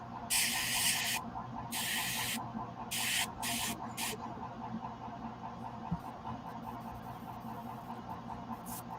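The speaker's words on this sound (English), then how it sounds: "That's a good airbrush." An Iwata airbrush sprays paint in several short hissing bursts of about half a second to a second, close but faint, over a steady low compressor hum.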